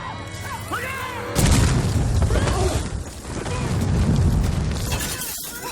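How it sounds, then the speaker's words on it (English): A lit stick of dynamite explodes in a street in a film scene: a sudden loud blast with crashing, shattering debris that rumbles on for several seconds, after some faint whistling tones beforehand. "The blast sends everyone diving for cover as smoke takes over the joint"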